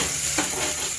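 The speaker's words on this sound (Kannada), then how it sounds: "ಈಗ ಈರುಳ್ಳಿ ಹಾಕಿದ್ದೀನಿ ಇದ್ರೊಳಗೆ" Onions fry in a pan with a continuous close sizzle and hiss, with a brief stirring scrape near the middle.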